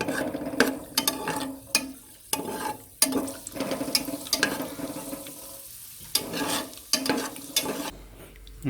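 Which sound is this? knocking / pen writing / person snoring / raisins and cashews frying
raisins and cashews frying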